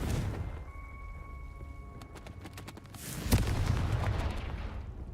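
A Confringo fire spell explosion from Hogwarts Legacy, a sharp blast bursting in after a few faint tones and clicks, followed by a loud rumbling, crackling tail that lingers to the end.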